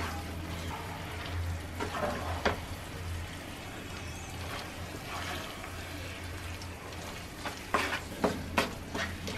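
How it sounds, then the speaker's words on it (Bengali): Jujubes being stirred into sticky jaggery and spices in a pan for a sweet-sour pickle, with a steady low simmer and sizzle broken by sharp scraping clacks of a spoon against the pan. "সব উপাদানের সাথে বড়িগুলোকে ভালোভাবে মিশিয়ে নিচ্ছি"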